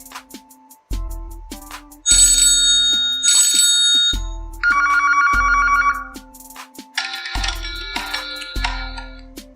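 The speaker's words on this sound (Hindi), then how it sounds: "देखिए फोन की साउंड चेक करते हैं।" Ringtone from a Huawei Honor 7C phone playing a bright, melodic tune of bell-like tones and chimes over a rhythmic beat, loud and close with no talking.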